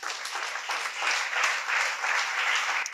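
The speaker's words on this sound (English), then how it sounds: "Can you help me just clap to God?" A church congregation claps together during worship, steady dense applause filling the room for a few seconds without pause.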